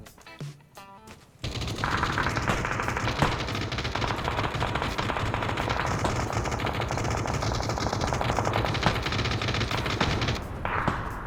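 Sustained automatic gunfire rakes a tank in the battle royale game PUBG, a loud, dense burst of rapid shots with engine rumble underneath that runs almost the whole clip after a brief quiet start.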